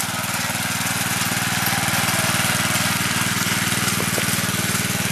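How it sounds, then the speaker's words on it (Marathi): A Kisan Kraft power tiller's small engine runs steadily up close, with a rapid, even chugging pulse and loud mechanical clatter that holds constant throughout. "पॉवर टिलर आहे."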